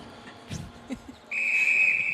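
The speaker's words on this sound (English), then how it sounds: "players start waiting for the whistle to go" A referee's whistle at a Canada versus Ireland women's rugby match: a sustained, steady high blast enters after a few brief crowd and voice sounds and holds loudly to the end.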